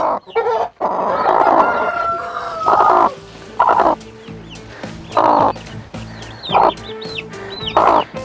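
A broody hen sitting on a clutch of eggs in summer heat clucks close by in repeated loud bursts, with short pauses between the calls.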